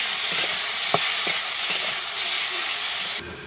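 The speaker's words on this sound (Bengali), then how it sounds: "মাংসটা কষে নেওয়ার জন্য আমি কড়াই প্রথমে তেল দিয়ে দিচ্ছি।" Spiced chicken fries in hot oil in a wok, giving a loud, steady sizzle with a few stirring scrapes, until the hiss drops abruptly at the end.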